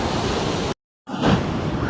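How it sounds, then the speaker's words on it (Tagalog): Loud crashing surf of large ocean waves in a storm roaring, broken by a sudden brief gap of silence before the heavy wave noise resumes. "lalaki ng alon"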